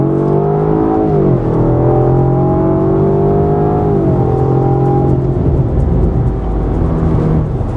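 A Jaguar XE P300 saloon with a 2-litre turbocharged engine and 8-speed automatic accelerates hard, its loud, close engine note climbing steadily and dropping at two gear changes.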